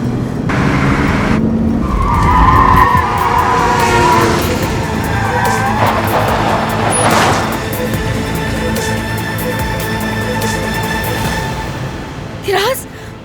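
Car skidding with tires squealing in a tense TV drama scene, a drawn-out screech over engine rumble with a sharp squeal burst near the end, while people shout over it.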